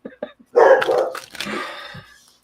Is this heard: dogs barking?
yes